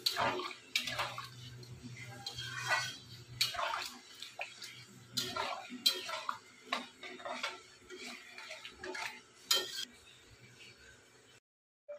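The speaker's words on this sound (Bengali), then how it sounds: "এখন জল দিতে ভালো করে নেড়ে নিই" Water goes into a pot of cooked-down curry and is stirred, making a close, continuous splashing swish with repeated clinks and scrapes of the spoon against the pot before a sudden stop.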